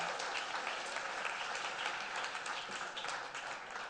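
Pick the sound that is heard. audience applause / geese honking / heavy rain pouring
audience applause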